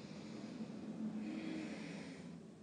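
Soft, close breathing during a vinyasa flow yoga class: a slow, faint breath drawn in and let out, with a low airy hiss and no speech.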